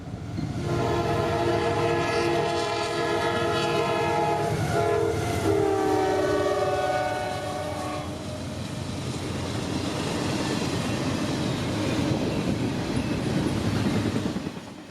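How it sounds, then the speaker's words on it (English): A CSX freight train passing at Folkston, Georgia, sounds several loud multi-tone horn blasts over rumbling wheels, then the steady roar and rattle of the cars rolling by close. "we've got a train coming"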